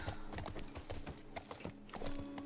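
Horse hooves clip-clop in the video game The Last of Us Part I, a steady walking rhythm of close, distinct hoof strikes over a soft ambient background.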